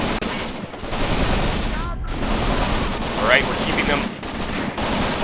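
MG42 machine gun fire in the WWII tactics game Graviteam Tactics, during an SS assault: sustained rattling bursts over a noisy battlefield, with someone talking over the gunfire.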